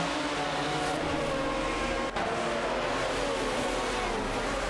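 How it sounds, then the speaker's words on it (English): Race car engines in a video game race, a Porsche 911 GT2 and an Aston Martin DBR9 duelling for 8th place, drone steadily and loudly without a break, with a brief dip near the middle. "A tight duel for 8th place is underway between Neo Texan in a Porsche 911 GT2 and Cedric in an Aston Martin DBR9."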